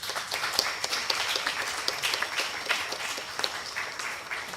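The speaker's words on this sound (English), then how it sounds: "So I think another round of applause." Nursing ethics conference audience claps at moderate volume, a scattered patter of individual hand claps rather than a dense roar, continuing steadily throughout.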